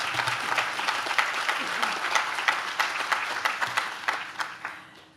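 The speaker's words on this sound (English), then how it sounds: "Please give another round of applause." Audience applause at a plaza dedication ceremony, a steady patter of many hands clapping at moderate distance, gradually thinning and fading out near the end.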